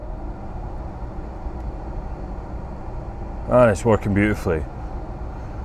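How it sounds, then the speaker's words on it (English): A steady, low hum from a BMW E36 air conditioning blower fan runs throughout at moderate level, with someone briefly speaking near the end over it. "The noise you can hear at the moment is the little sampler fan in the aircon unit."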